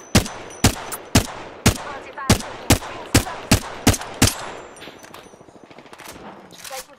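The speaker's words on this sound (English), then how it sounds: "Taking fire." Rapid gunfire from the video game Apex Legends: about a dozen loud, sharp shots in a quick, fairly even rhythm, then a softer rattle and scattered game effects as the firing stops.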